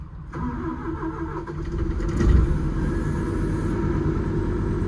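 The CVT engine of a DL420-7 machine cranks and fires, then settles into a steady, loud, low rumbling idle close by. No voices are heard.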